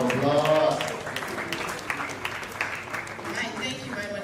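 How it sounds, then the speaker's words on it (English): Audience applause in a hall at a youth festival, a steady wash of clapping lasting several seconds with a burst of voices near the start, moderately loud and fairly close. "Please, a round of applause."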